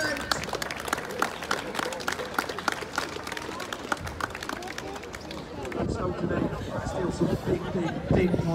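A crowd at a strongman competition with Atlas stones cheers and claps continuously, dense applause and hubbub close by, with voices mixed throughout.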